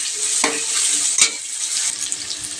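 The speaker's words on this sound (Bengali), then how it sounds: "রসুনটা আগে একটু ভেজে নিচ্ছি" Garlic fries in oil with a close, bright sizzle, broken by a couple of sharp clatters of a utensil against the pan.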